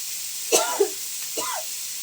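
A couple of short, fairly faint coughs, close by, with quiet background hiss between them.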